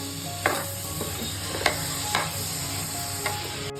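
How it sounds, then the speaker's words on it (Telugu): Onions fry with a steady close sizzle in a pan for Andhra-style brinjal curry, with a few sharp clinks as a ladle stirs them now and then. "ఆ తర్వాత తగ్గిన తర్వాత ఉల్లిగడ్డలో వెళ్ళాలి మనం ఉల్లిగడ్డలు వచ్చేటట్టు తిప్పండి"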